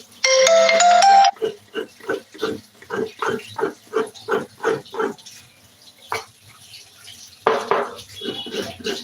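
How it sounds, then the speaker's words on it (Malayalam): A mobile phone's ringtone for an incoming call sounds in a home kitchen during cooking: about a second of bright, loud electronic melody, followed by a run of rhythmic, clipped bursts and then quieter room noise. "എനിക്ക് ഒരു കോൾ വരുന്നുണ്ട് ഞാൻ കട്ട് ചെയ്തതാണ്"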